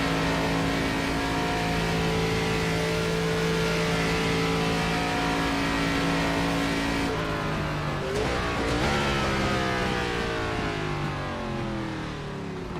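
A race car engine in the iRacing sim game drones at steady high revs, then drops and climbs again in a quick rev sweep, loud and continuous with no talking.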